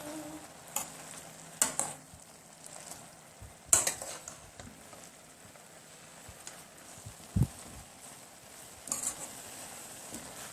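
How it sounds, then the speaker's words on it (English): Callaloo being stirred in a pot over heat, soft scraping and sizzling with a few sharp clinks of the spoon against the pot, close and intermittent, no voices. "So now I'm going to stir this around."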